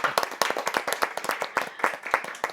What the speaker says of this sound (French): on peut l'applaudir autour de la table